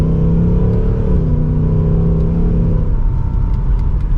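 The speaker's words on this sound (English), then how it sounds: "And so let's give it another acceleration." A 2024 Ford Mustang GT Premium with a V8 accelerates hard, its loud, deep engine roar swelling steadily and then easing into a lower rumble from inside the cabin, with no voices.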